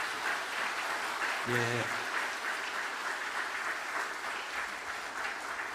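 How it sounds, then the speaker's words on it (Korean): Church congregation applauding newly baptized children and adults at an Easter service, steady dense clapping throughout with a brief spoken word in the middle. "성도 여러분들께서는 박수로 환영해 주시기 바랍니다"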